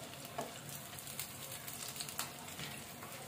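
Baby corn bajji fritters fry in hot oil with a soft, steady sizzle and small crackling pops, close but quiet, with no talk.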